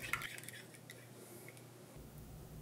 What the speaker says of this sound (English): we'll whisk the eggs together.